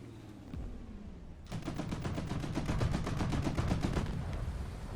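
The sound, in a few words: gunfire in the video game War Thunder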